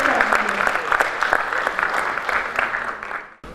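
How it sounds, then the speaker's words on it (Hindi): A crowd at a law chambers anniversary event claps steadily for a few seconds, loud and close, then the applause fades out abruptly near the end. "तो आप सब लोगों की तालियों में दावत दूंगी चौधरी मजीद साहब को स्टेज पर आने के लिए।"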